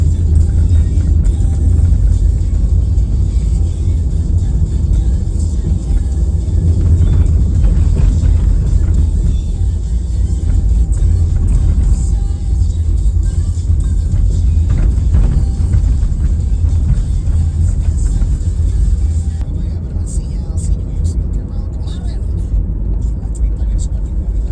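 Car driving over a bumpy, undulating road in Karawang regency, Indonesia, heard from inside as a loud, constant low rumble with engine drone and irregular jolts throughout.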